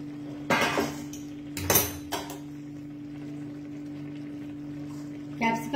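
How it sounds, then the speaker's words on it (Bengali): A metal lid comes off a cooking pan of chilli omelette and capsicum, giving a few sharp metallic clanks close by, then a quieter clink near the end over a steady low hum. "ঢাকনাটা খুলে দেখি"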